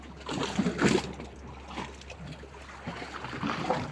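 Waves splash and wash against something nearby at a tunnel at Al Ahlam Palace, a broad watery rush that swells early and again near the end, with faint voices underneath.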